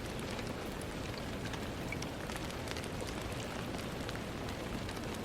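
Steady rain falls without pause, a dense, even hiss of heavy drops that fills the scene at a constant level, with no voices and no breaks.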